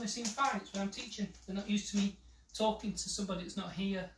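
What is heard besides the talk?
No everyday noises stand out.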